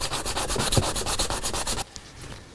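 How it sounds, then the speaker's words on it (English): A bent wood veneer ring is sanded smooth at the seam where the wood ends, with quick close back-and-forth rasping strokes in a steady rhythm that stop abruptly near the end. "I'm going to sand that really smooth"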